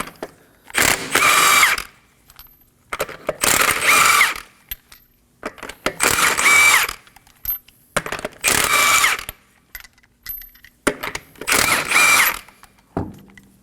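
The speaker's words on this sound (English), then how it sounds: "Using a 21mm socket," A power tool removing car wheel nuts with a 21mm socket on a 2016-2020 Kia Sorento 2.4L L4, heard as five loud, evenly spaced bursts of whirring and rattling, each about a second long, with brief quiet gaps between them.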